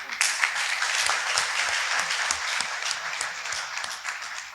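An audience applauds steadily for several seconds, a dense, close wash of many hands clapping at once with no pauses.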